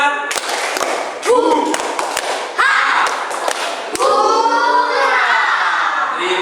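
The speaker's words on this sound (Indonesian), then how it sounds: "Tepuk semangat." A classroom group performs a structured rhythmic clapping cheer, sharp hand claps and thumps in quick patterned bursts, fairly loud and close, with voices chanting along at times.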